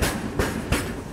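The Jasidih-Goa Weekly Express rushes past while overtaking a halted train, with loud rhythmic clatter of wheels over rail joints repeating about every third of a second.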